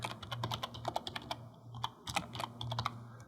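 A computer keyboard clatters with a quick, uneven run of keystrokes ending near the enter key, crisp and close against a low steady room hum, with no voices.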